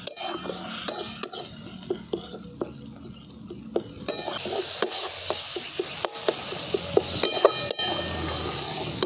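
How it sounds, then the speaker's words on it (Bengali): Spice paste with a little turmeric being stirred and fried in a pan for a fig dhoka curry, with steady scraping and clinking of a spoon against the pan over a soft sizzle, the sizzle growing louder midway. "মশলাটা ভালো করে কষিয়ে নেওয়ার জন্য"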